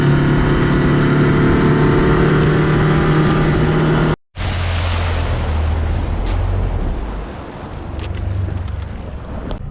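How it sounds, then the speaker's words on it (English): A Tracker Targa V19 boat runs down a lake channel, its engine a steady loud drone buffeted by heavy wind noise, with a brief dropout midway before the motor note continues. "we just took a couple rips down the main channel of the lake here, and the boat's performing great"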